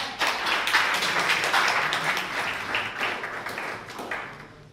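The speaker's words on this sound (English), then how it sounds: "Let's give a round of applause to Father first." Audience clapping at a workshop in Nigeria, a moderate, steady patter of many hands lasting a few seconds, with a faint murmur of voices mixed in and slowly tapering toward the end.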